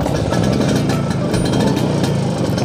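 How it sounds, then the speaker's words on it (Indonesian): A Vespa 150 Super scooter engine with a non-original exhaust runs steadily up close, a loud, continuous buzzy putter with no pauses. "ini salah satu bunyi suara Vespa yang knalpotnya ini"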